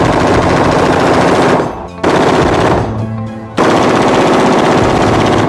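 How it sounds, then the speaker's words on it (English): An AR15 rifle fires sustained rapid bursts, loud and near, with two brief pauses between dense strings of shots. "Final calculation, 830 rounds were fired."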